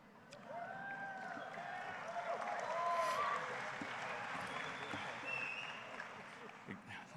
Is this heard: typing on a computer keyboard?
no